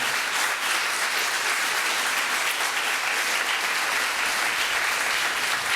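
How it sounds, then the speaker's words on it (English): Sustained applause from an audience at the 2015 Gateway to Reason event, a steady dense wash of many hands clapping for several seconds with no talk over it. "One more round of applause for Gateway to Reason, folks."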